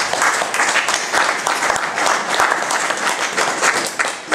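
An audience applauds after a literary reading: dense, sustained clapping fills the whole four seconds at an even, fairly loud level, with no voices over it.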